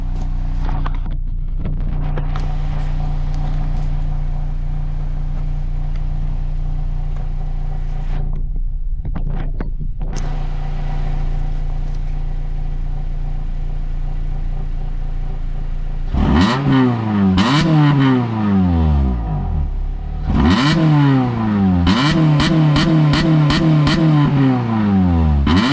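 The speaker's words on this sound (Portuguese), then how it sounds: "o que vocês gostaram do escapamento furado com ronco original?" A Honda Type R with a holed exhaust first idles with a steady low drone. It then revs repeatedly in loud, sharp bursts that rise and fall, heard close and alone with no talk.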